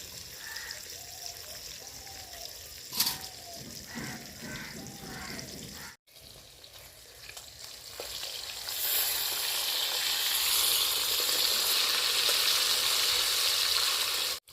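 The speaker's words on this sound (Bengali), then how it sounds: "মাছগুলো ভাজা হয়ে গেছে এবার তুলে নেব" Rui fish pieces frying in hot oil: after a quieter stretch with a few scattered sounds, a loud, dense sizzle builds and holds steadily to the end.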